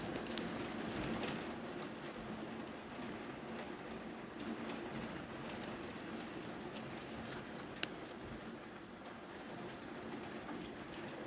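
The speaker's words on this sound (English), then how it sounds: "I should show you the rain, really. It's horrendous." Heavy rain pours steadily for the whole stretch, a continuous dense patter with occasional sharper drop hits, moderately faint and without any voices.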